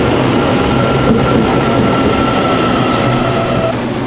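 A local train in Taiwan rolls along, a loud, steady rumble of wheels on rails with faint squeals and clatter, heard from aboard the carriage.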